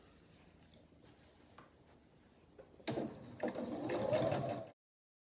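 A sewing machine stitches quilt block pieces, starting after a quiet stretch with a short burst of fast, buzzing needle action, close and fairly soft, then stopping abruptly.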